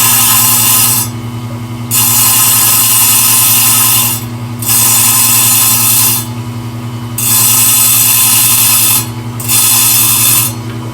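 A Highland Park SM1 shaping machine grinding the edge of a labradorite stone, a loud steady motor hum with four bursts of harsh abrasive grinding as the stone is pressed on and lifted off.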